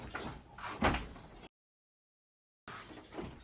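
A store room door in a city home opens with a brief rattle and creak, fairly close, followed by a stretch of silence and then more handling noise; no one speaks over it.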